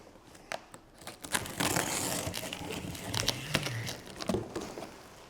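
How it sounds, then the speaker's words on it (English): Close crinkling and crunching as a bicycle's cardboard box and packing material are cut open, with scattered tearing and scraping noises over a few seconds. "let's open up your box using your box cutter or a pair of scissors"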